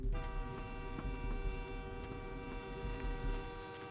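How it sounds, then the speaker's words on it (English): A steady, droning tonal train horn or whistle blares continuously in Vampire: The Masquerade Bloodlines, a sustained harmonic chord over low rumbling rail noise with faint periodic clicks, loud and close throughout with no talking. "Is that noise like the worst train noise ever?"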